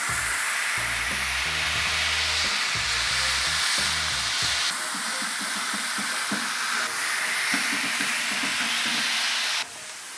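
Smashed burger patties topped with onions sizzle on a flat griddle for a bacon double cheese smash burger, a steady, close, broadband hiss running throughout, with low music-like tones underneath.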